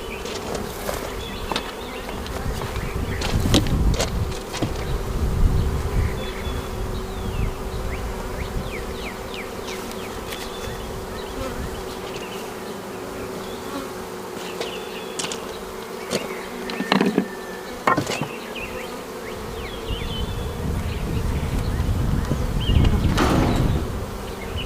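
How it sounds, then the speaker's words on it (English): Honey bees swarm and buzz loudly around an opened hive during a spring inspection outdoors, a dense continuous drone with individual bees zipping close past, and a few soft knocks and clatters of hive parts. "I want to hear the bees"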